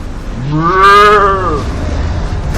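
One loud, drawn-out cow moo from the video game Life is Strange rises and falls over about a second against a low background hum.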